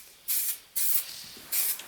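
Three short bursts of an aerosol spray can laying a thin dust coat of satin black paint over Jaguar XJ6 cam covers, each hiss lasting about a quarter second with brief pauses between.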